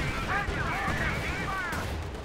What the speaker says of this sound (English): lots of anti-tank rifles there plinking away on the armour of the Panther